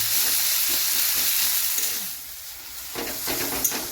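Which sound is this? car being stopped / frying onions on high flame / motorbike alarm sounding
frying onions on high flame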